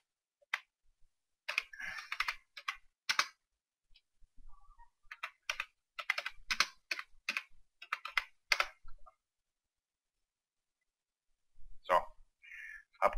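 Bursts of rapid clicking keystrokes on a computer keyboard while typing a chat message during a World of Tanks match, close and crisp, broken by pauses of silence.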